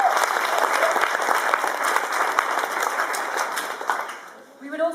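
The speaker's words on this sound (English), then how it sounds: "So I think we could all give them a round of applause." A graduation ceremony audience breaks into a steady wave of clapping that fades away after a few seconds, with a voice starting to speak just as it dies down.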